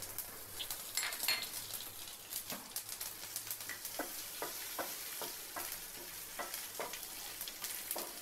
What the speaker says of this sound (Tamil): கடுகு அப்புறம் எள்ளு, இது 2ஐயும் நம்ம கொஞ்சம் பொரிக்க விட்டுடலாம்.